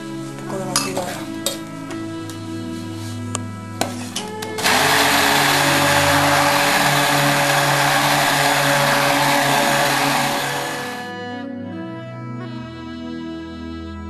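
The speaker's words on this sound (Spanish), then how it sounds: "Vamos a pasarle un poco de batidora." A hand blender whirs loudly and steadily for several seconds, mixing homemade wakame seaweed soap in a container, after scattered clinks and knocks of utensils and before quieter handling sounds.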